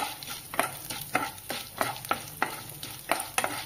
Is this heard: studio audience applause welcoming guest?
no